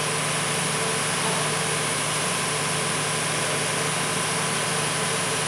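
Steady motor drone outdoors near drainage pipes in a Colombo neighbourhood, a continuous loud idling hum with a constant engine tone and no pauses, with no voices over it.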